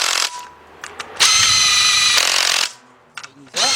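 Power tool driving 16 mm bolts during a Nissan head gasket replacement, whirring in loud close bursts with one long sustained run and short trigger pulses between pauses.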